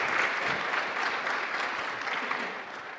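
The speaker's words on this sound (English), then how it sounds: "Please give a round of applause to everyone." Steady applause from a conference audience after a panel session, a dense, even wash of clapping hands that continues throughout without talk.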